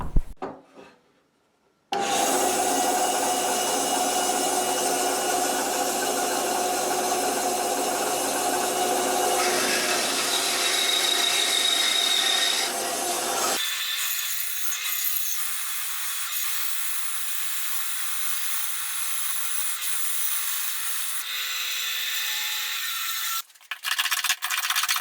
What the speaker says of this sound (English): we can get this onto the bandsaw and cut the waste off